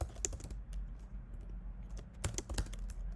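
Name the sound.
typing code on a computer keyboard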